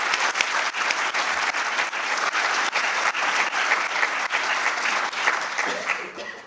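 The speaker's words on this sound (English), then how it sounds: "So please join me in giving them a wonderful round of applause" An audience gives a warm round of applause at a community presentation, dense many-handed clapping sustained at full strength for several seconds before tapering slightly at the end.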